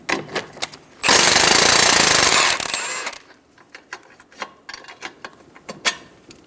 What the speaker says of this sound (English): Remove the sway bar link nut using a 14mm wrench on the head of the bolt and a 14mm socket.